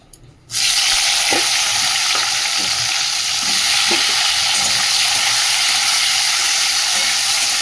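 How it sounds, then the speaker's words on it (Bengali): Potatoes hit hot oil in a wok and burst into a loud, steady hiss of frying that continues close up, with occasional light knocks of stirring underneath. "ওদিকে ভাজাটা বসিয়ে দিই, কড়াতে তেলও দিয়ে দিয়েছি"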